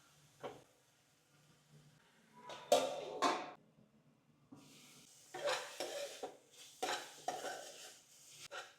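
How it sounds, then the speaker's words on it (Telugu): Coriander leaves frying with ginger garlic paste for egg bhurji, quiet sizzling broken by bursts of spoon scraping and stirring against the pan, several clatters in the middle and later, no speech. "కొత్తిమీర కొద్దిగా మగ్గేంత వరకు ఉంటే సరిపోద్ది, అంటే ఈ పచ్చివాసన పోయేంత వరకు."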